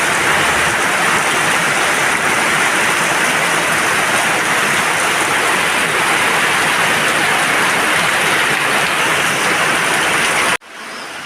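Steady, loud rain pouring down continuously, a dense hiss of drops with no voices, cutting off abruptly near the end.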